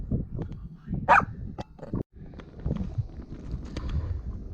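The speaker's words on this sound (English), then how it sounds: "She's barking till we put her in the truck." A dog barks repeatedly at a campsite while gear is being packed up, giving sharp, irregular barks at close range over background bumps and clatter, with no speech.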